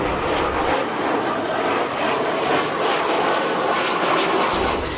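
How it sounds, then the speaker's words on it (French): A Brussels Airlines airplane lands on the runway at Kinshasa, its loud engine roar steady and close for the whole stretch, with no other sound standing out. "l'avion de la compagnie Bruxelles Airlines, avec à son bord Augustin Kabouya, venait de se poser sur la piste"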